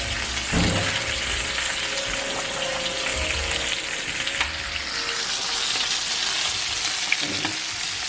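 Vegetables sweating down in a hot pan, giving a steady, close, continuous sizzling hiss with a few faint clinks from stirring, and no voices.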